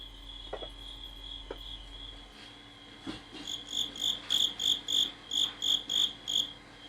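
Fighting crickets chirp up close, a few scattered taps giving way to a rapid run of regular, loud pulsing chirps that repeats steadily to the end.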